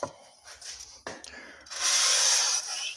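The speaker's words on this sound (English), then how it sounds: "I got some 400 grit sandpaper now. We're gonna take our head. I'm gonna wet it down" Wet sanding a leaking motorized bicycle cylinder head by hand with wet 400 grit sandpaper, a soft gritty rasping that grows louder and steadier in the second half, with breathy scuffs before it.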